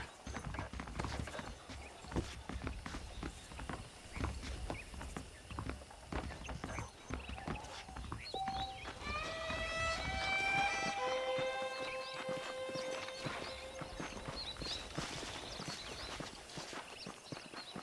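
Horse hooves clip-clopping in a steady walking rhythm while riding in Red Dead Redemption, close and fairly quiet, with a brief whinny and light music-like tones rising midway.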